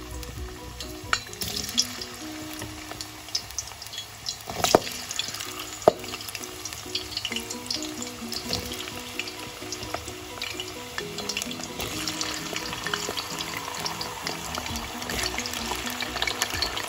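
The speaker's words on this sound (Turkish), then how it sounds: "Önce patatesi kızartmakla başlıyorum." Cubed potatoes fry in a pan with a steady, close sizzle and crackle, with occasional clinks and stirring sounds throughout and no talk.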